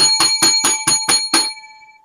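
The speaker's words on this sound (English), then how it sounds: "hold on, 7 lucky bells" Seven bright bell dings ring in quick, even succession, loud and close, with the last one ringing out and fading away.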